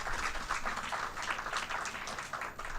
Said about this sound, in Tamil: நீங்க ஒரு பெரிய பலத்த கைத்தட்டல் கொடுக்கணும்